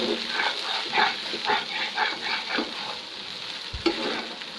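Noodles frying in a pan with salt and oil, a soft steady sizzle with rhythmic stirring scrapes, then a sharp knock near the end.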